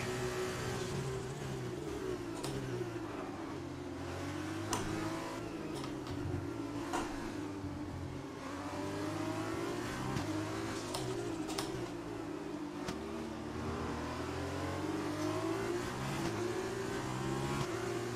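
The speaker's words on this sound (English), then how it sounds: "Yeah, the exhaust sounds awesome." Race car exhaust from the F1 2020 video game, Alpha Tauri career mode, revving and shifting continuously with rising and falling engine pitch, loud and steady with a light clicking of controls over it.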